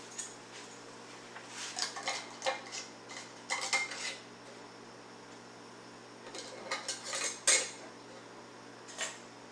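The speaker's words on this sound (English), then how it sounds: "Now we're going to put our rings on." Quiet metallic scraping and clinking in short bursts as metal rings are twisted finger-tight onto glass canning jars of potatoes, close by with pauses between.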